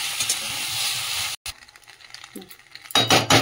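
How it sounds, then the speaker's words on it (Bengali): Pasta being stirred in a pan with oregano, chili flakes and cheese, a hissing sizzle with scraping stirs that cuts off abruptly, goes quiet with faint clinks, then the sizzle returns loudly at the end. "ভালো করে এটা মিশিয়ে নিই।"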